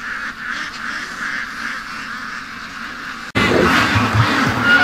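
Ducks being rounded up toward a lake quack faintly at first over a quiet outdoor hush, then a sudden louder burst of close, overlapping quacking and honking fills the last moments.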